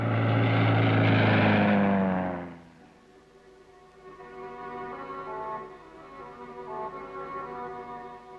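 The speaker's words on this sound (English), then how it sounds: "The patrol maintains contact with Australian Army spotter planes, or bird dogs" An Australian Army spotter plane, a bird dog, passes overhead in wartime Vietnam. Its loud propeller drone swells in the first two seconds, then fades to a fainter, steady hum that carries on to the end.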